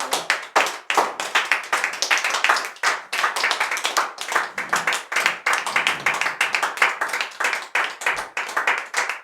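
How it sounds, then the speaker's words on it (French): A church congregation claps loudly and steadily in unison to acclaim God, producing a fast, even stream of close, sharp handclaps that runs the whole time with no speech over it. "Tu vas acclamer très fort ton Dieu"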